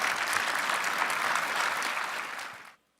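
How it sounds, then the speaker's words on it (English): An indoor audience applauds the Mayor of Irving at a State of the City event, a dense, even burst of clapping from a large crowd that fades out and stops abruptly near the end. "Let's give him a round of applause"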